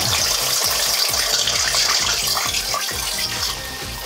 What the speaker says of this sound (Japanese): 先ほどより泡が激しく出る温度で高温でカラッと揚げ切るんや。